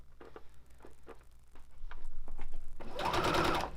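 A sewing machine stitches the seams of a New Look 6035 skirt. A few light taps and brief clicks come first, then a close, steady burst of rapid mechanical whirring runs to the end.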